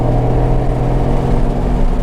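Mustang GT engine revving during a rev-match downshift inside the car, a steady loud droning engine note with a low rumble held throughout, no voices.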